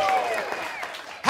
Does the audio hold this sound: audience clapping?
yes